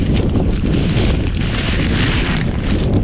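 Strong wind buffets a microphone outdoors beside a 1978 Pontiac Trans Am under repair, a loud continuous rumbling roar filling the whole stretch with no talk.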